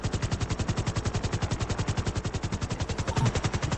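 Rapid, evenly spaced automatic gunfire in a role-play video game with a police helicopter scenario, a loud sustained burst of machine-gun shots continuing without a break and with no voices.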